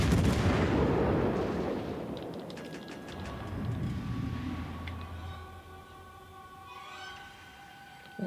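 A battleship's naval guns fire one deep, booming volley in World of Warships: Legends, and the blast rolls off and fades, followed by quieter game effects.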